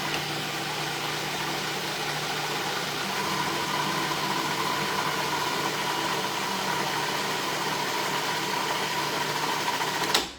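A Cuisinart food processor runs steadily while mashing cauliflower, giving a constant loud motor whir with a slight rattle that holds for about ten seconds before cutting off at the end.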